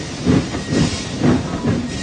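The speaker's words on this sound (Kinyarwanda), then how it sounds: "gari ya moshi icyiza ntabwo yihutaga cyane" A train rolls along at an unhurried pace in a scene from the Indian film Ghajini, a steady rumble with a regular chugging, clattering pulse about twice a second and a faint hiss, no voices.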